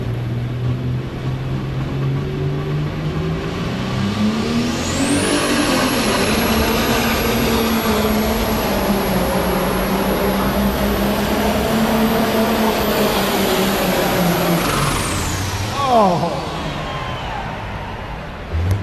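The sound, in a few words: pulling tractor engine at full power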